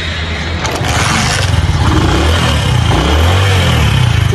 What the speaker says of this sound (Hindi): आवाज़ पहचान ली होगी, कौन सी लेजेंड बाइक की आवाज़ है ये